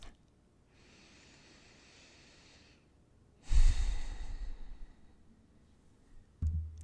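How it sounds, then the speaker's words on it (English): A single slow, deep breath taken close up in a quiet room: a soft, drawn-out inhale followed by a fuller, louder exhale, with a brief rustle at the end. "take one slow breath"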